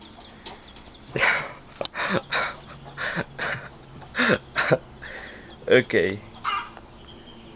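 A pet chicken clucks in a series of short, close bursts at irregular intervals, with a brief spoken word among the calls.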